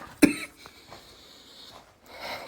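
A single sharp cough bursts out close by near the start, followed by soft breathing and faint room noises in an otherwise quiet indoor space.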